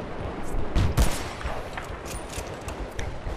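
A tank firing in Battlefield: Bad Company 2, heavy booming blasts with a couple of loud hits early on, then rumbling explosions and crackling debris continuing in the background.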